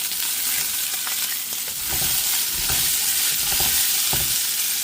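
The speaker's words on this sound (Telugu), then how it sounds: "ఉల్లిపాయలు వేగినాక" Onions sizzling in hot oil for a homemade Telugu chicken liver pulusu, a loud steady frying hiss broken by soft scraping thumps as they are stirred, with no one talking.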